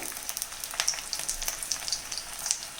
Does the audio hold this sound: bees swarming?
no